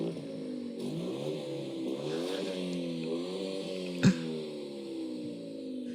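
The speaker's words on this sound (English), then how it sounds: "So it has a tiny inline 2 and it sounds like this." A small turbocharged inline two-cylinder car engine idling and revving, its low, uneven throb rising and falling steadily, with a single sharp clunk partway through.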